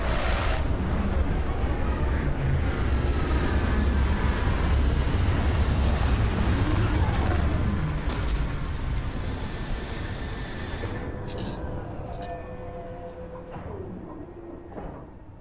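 A spaceship in Starfield sets down on a planet, its engines giving a loud, sustained roar that swells and then slowly fades as the craft touches down, with no talk.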